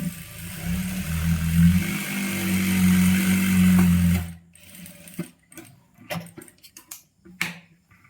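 A sewing machine stitching a churidar runs in a loud, steady whir for about four seconds, then stops, leaving soft clicks and handling sounds of the fabric nearby.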